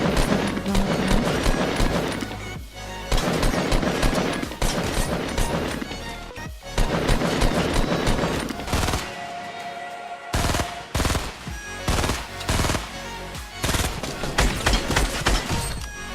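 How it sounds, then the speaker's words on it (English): Rapid, loud bursts of weapon fire from a laser gun in the video game Fortnite, dense repeated blasts with brief gaps and a short pause partway through, heard alone. "Laser sound."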